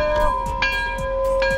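A chime-like bell tone rings inside a 2009 Mercedes-Benz SL-Class AMG roadster with a 6.2L engine, with sustained steady tones and a few soft repeated strikes, moderately loud and close.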